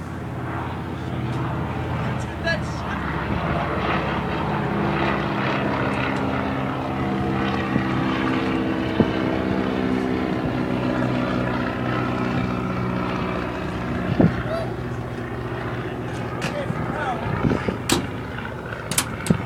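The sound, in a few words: Cessna 310 twin Continental O-470 engines starting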